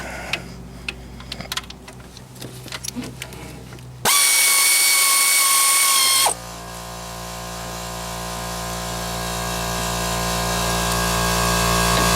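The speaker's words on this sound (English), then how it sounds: "also remove the mounting bolts from the alternator, just like this." A ratchet clicks close by in quick, uneven bursts while removing the alternator mounting bolts on a 1996 Chevrolet Cavalier 2.2. A sudden loud, steady whine follows, then a sustained hum.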